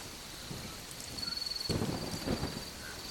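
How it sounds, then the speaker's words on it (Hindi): Heavy night rain in a hilly region of northern India, with a deep rumble of thunder rolling in partway through over a steady hiss of downpour, close and enveloping with no voices. "बारिश इतनी तेज थी कि सड़कों का निशान मिट गया था।"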